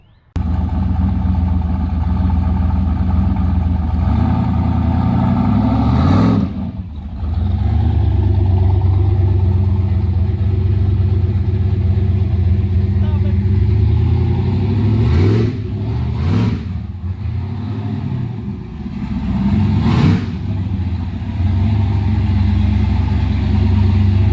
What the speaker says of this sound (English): Got the car moving and we've got it started